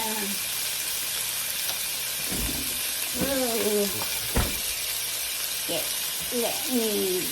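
Butter sizzles in a pan over medium heat, a steady bright hiss heard throughout while a person talks over it.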